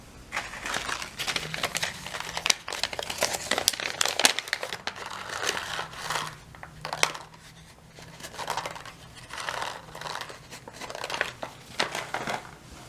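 A Ziploc bag and a paper towel are handled for a seed-starting greenhouse kit, giving bursts of close, irregular plastic crinkling and rustling with soft handling knocks between them.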